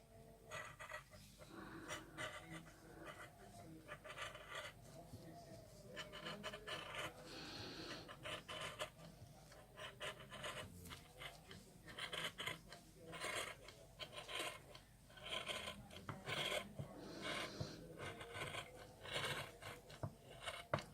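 Fabric cut by hand for a Tilda doll, a close, continuous rasping and rubbing with irregular snipping and scraping strokes and no voice.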